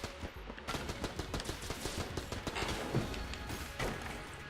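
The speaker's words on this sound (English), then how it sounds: "the explosions were amazing there" Explosions and rapid gunfire from the video game Enter the Gungeon, a dense continuous barrage of thumping shots and blasts at moderate level with no pauses.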